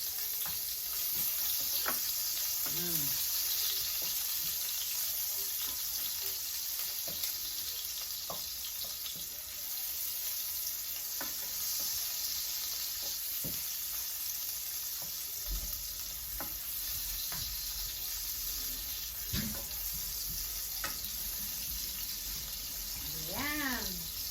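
Garlic and onion frying in a pan for pork adobo, a steady broad sizzle that carries on throughout, with a few brief stirring scrapes and clinks close by.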